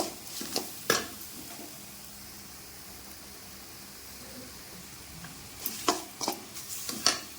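Mushroom curry with ground masala powder and salt being stirred in a pan, heard as a faint sizzle with scattered scrapes and clinks of a ladle at the start and end, and a quieter stretch in between.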